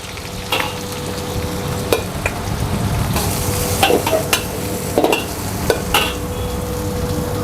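Onions sizzle steadily in a hot wok while being stir-fried, with occasional sharp scrapes and clinks of a utensil against metal.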